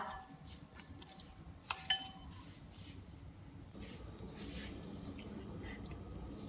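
Soft, wet chewing of a sesame-oil jellyfish salad dressed with soy sauce and toasted white sesame. The chewing is quiet and close, with a few sharper clicks early on, and there is no speech.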